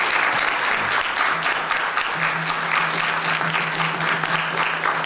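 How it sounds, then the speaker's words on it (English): Audience applause for a panel at a film screening event in the Anchorage Library, sustained crowd clapping throughout, fairly loud and even, with a faint low tone underneath. "Let's give the whole panel a round of applause."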